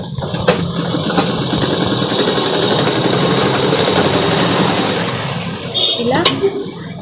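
A sewing machine runs continuously at a close, steady, loud hum while stitching the cuts of a night suit, then slows and stops near the end.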